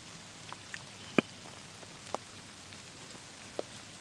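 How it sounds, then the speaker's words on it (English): Rain falls as a soft, steady hiss, with a few sharper drips or taps landing at scattered moments on a nearby surface. "The rain is coming down."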